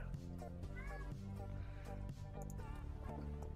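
An orange cat meows several times in short, rising and falling calls, close and clear over steady background noise, with a person talking at times.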